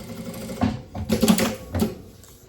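A sewing machine stitches a fabric organizer in short bursts, quick mechanical whirring runs of needle strokes starting and stopping, with a brief reverse stitch, close and moderately loud.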